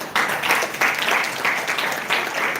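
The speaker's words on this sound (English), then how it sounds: "I like the crowd claps, makes me very happy." A crowd at an evening celebration of Sai Baba's 100th birthday claps in dense, continuous applause, loud and close, with faint speech mixed in.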